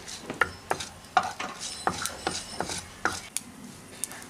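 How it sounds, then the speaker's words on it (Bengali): Dried red chili and black mustard seeds fry in mustard oil with a faint sizzle, punctuated by sharp, irregular pops and spoon scrapes every half second or so, with no talk. "তেলের মধ্যে ফোড়ন দিলাম একটা শুকনো লঙ্কা আর কালো সর্ষে ফোড়নটাকে কয়েক সেকেন্ড ফ্রাই করে নিচ্ছি"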